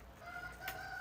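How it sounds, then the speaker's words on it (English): Roosters crow faintly in the distance, a drawn-out call heard over quiet background hum with no talking. "you guys can hear the roosters going off."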